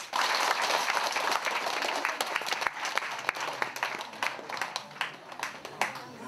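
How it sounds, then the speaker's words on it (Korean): A gathering at an entrance ceremony applauds visiting university students from China, a loud, sustained burst of many hands clapping close by, with sharper individual claps standing out as it thins. "박수!"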